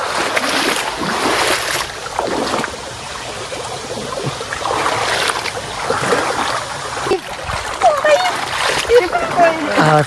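Feet splash and churn through a stream while wading upstream on the way to a waterfall in the rain, a continuous close sloshing with people talking over it throughout.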